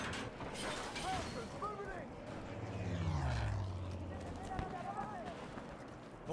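Aircraft in the video game Battlefield V sweeping overhead, a propeller drone rising to a peak and then falling away, mixed with battle noise and a player talking over it.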